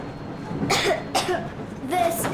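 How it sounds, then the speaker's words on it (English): A young girl character in the video game Metro Exodus coughs in two or three short, raspy bursts over quiet background ambience, with faint game dialogue around it. "I have this cough."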